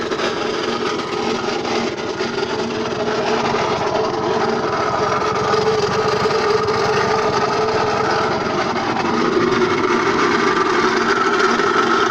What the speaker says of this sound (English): Sound disturbingly like it might be coming from in the transmission.